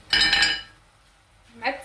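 Metal utensil scraping and clinking against a pan while stirring and flipping chicken shawarma, a bright clatter followed by a quieter pause and a second short clink.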